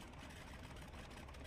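An aircraft engine in the VR game Aces of Thunder runs as a steady, quiet broadband drone and rumble with no clear change.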